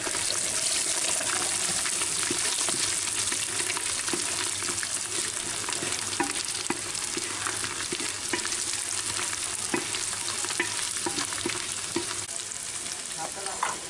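Peeled garlic cloves and six or seven red chillies fry in oil for an old-style chicken handi, making a continuous bright sizzle with small crackles and occasional stirring, close and fairly quiet, with no voices.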